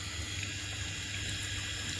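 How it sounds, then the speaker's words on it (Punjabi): A water pump motor drawing water from a tank runs with a steady hum and rushing flow of water, continuous and fairly even throughout. "ਮੋਟਰ ਤੇ ਡੱਗੀ ਚੋਂ ਖਿੱਚੀ ਜਾਂਦੀ ਆ ਆਵੇਂ ਮੋਟਰ ਚੱਲੀ ਜਾਂਦੀ ਐ"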